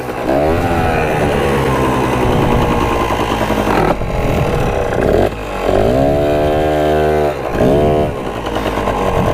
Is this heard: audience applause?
no